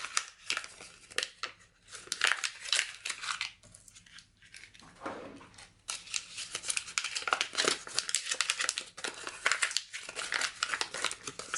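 Paper being crumpled and crinkled by hand for a scrapbooking page, a close, busy run of rustling, crackling bursts with short pauses, no talk over it.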